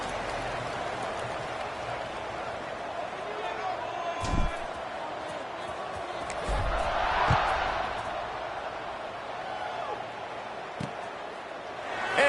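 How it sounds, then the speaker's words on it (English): A college football stadium crowd at a LU versus UCF game makes a steady, diffuse roar across the whole stretch. It swells a little at times, with occasional thumps and an announcer talking over it. "this crowd is buzzing after that last score"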